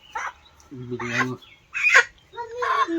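A chicken at a rural Konkan home clucks in short, close, scratchy bursts, several calls spaced unevenly amid voices talking nearby.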